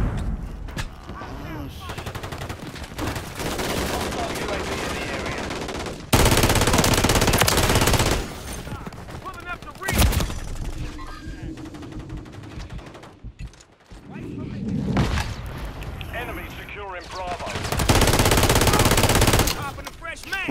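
Automatic gunfire from the video game Call of Duty: Modern Warfare 3, loud sustained bursts of machine-gun fire and explosions filling most of the stretch, with brief lulls between volleys and game effects layered in.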